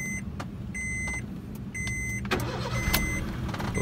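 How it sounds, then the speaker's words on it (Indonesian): A 2014 Honda Brio E Satya with a manual gearbox and a 1.2-litre four-cylinder i-VTEC engine starts: dashboard chimes beep in short repeats, then the engine catches and settles into a low, steady idle rumble. "Kita akan coba nyalakan mesinnya."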